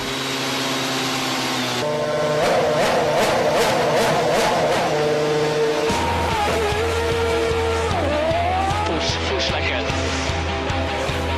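A Formula 1 racing car's V8 engine screams at high revs with sustained, steady engine noise throughout, shifting pitch as it accelerates, loud and close with brief pitch sweeps partway through.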